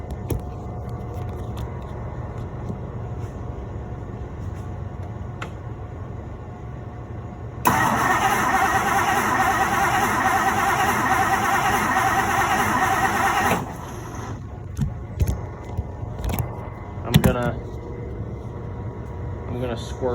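A 1963 Mercury Monterey, low on fuel, cranks without catching: a steady low grinding starter churn under spoken words, a louder stretch of cranking in the middle, then clicks and knocks as it stops.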